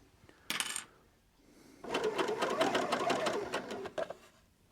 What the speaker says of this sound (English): this part of the sleeve will be removed by the blade of the overlocker